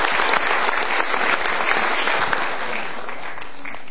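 An audience at an Indonesian motivational seminar claps, producing a dense, loud burst of applause that fills the whole stretch and eases off slightly at the end.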